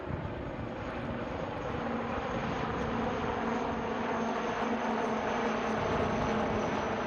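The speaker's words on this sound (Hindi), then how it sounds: "और अब आ रहे हैं आपकी बाईं ओर से नौसेना के आई in the sky the falcon Kamov 31 helicopter" An Indian Navy Kamov 31 helicopter flies past during a naval sail parade and fly past at Miramar, Goa, producing a loud, steady, continuous engine and rotor drone that holds throughout with no voices.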